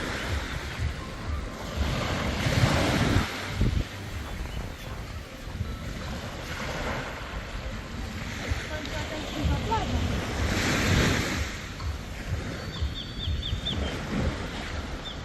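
Ocean waves wash onto a beach on Koh Lanta, Thailand, in slow, swelling surges over steady wind noise buffeting the microphone.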